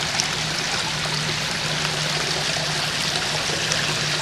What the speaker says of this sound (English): This is this little stream right here.